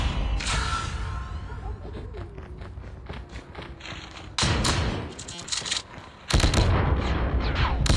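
Rapid gunfire from soldiers battling demons in a video game, bursts of sharp shots with thumps and mechanical clatter, loud near the end, while a player talks throughout.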